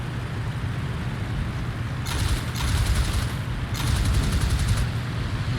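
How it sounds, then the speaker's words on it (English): Aircraft gunner fire in the Il-2 Flying Circus flight game, two sustained bursts of rapid gunfire rattling over a steady loud engine drone. "And we're being shot at again"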